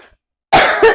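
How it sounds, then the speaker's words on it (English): A short burst of dry coughing, close and loud, two quick coughs following a moment of near silence, no speech alongside. "and that starts me coughing."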